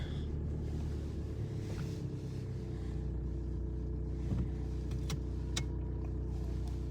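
A 2014 VW Golf 1.6 diesel engine rumbles at a low, steady idle as the car slowly moves off, with a few faint clicks and squeaks over the drone.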